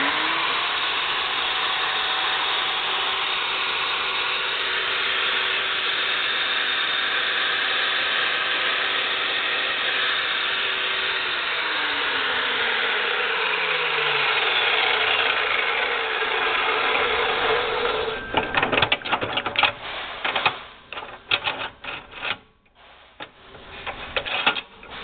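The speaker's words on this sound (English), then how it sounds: "Here we have the DEWALT 14 inch heavy duty cutoff saw." An unused DEWALT 14-inch heavy-duty chop saw runs with a steady loud motor whine whose pitch falls as it spins down, followed by irregular clattering mechanical knocks and rattles.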